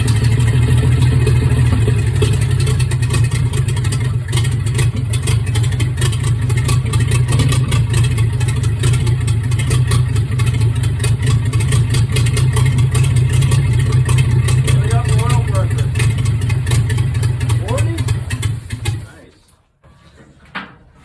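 A 1938 Pontiac engine running steadily after being cranked over, a loud, even, low-pitched idle that holds for about nineteen seconds before cutting off abruptly.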